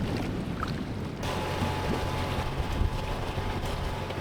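Strong wind buffets the microphone as a boat pulls into Bora Bora in French Polynesia, a continuous loud roar and rumble with no voices.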